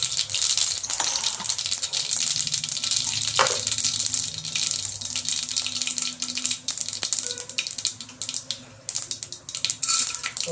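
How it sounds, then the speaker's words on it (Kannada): Mustard seeds sputter and crackle in hot oil in a pan, a steady busy sizzle with scattered pops running throughout, close and without talk. "ಸಾಸಿವೆ ಹಾಕ್ಕೊಂಡಿದ್ದೀನಿ."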